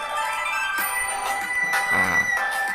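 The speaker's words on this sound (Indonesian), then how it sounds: "Ini suara chipmunk." A chipmunk voice changer effect pitches a sound high and bright, giving a chirpy, bell-like quality; a few seconds long, steady and moderately loud with no talking.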